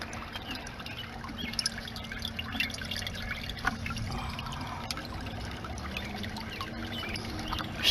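Water trickles and drips steadily through a hydroponic pipe, a continuous soft wet dribble close by, with no one speaking.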